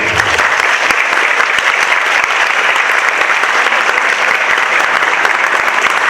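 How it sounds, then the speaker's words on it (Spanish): An audience of students at a university economics conference claps loudly and continuously for an introduced speaker, a dense, steady wash of applause filling the room with no speech on top. "para quien le pido un fuerte aplauso, muchachos, por favor"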